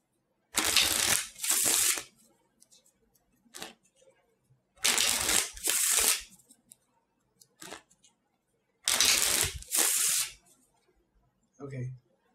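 A deck of playing cards being riffle shuffled, heard as three pairs of loud, crisp ripping riffles spaced a few seconds apart, each followed by a softer bridge and squaring, with small handling taps in between.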